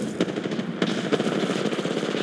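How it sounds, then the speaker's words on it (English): Rapid automatic gunfire from a shooter video game, dense, loud and continuous bursts with sharp cracks and no talk. "I'm getting shot at."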